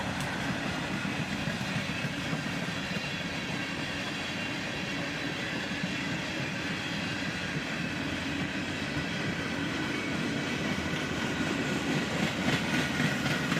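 A long CSX freight train of covered hoppers and boxcars rolls past steadily with a continuous rumbling clatter of wheels on rails, fairly constant in loudness throughout.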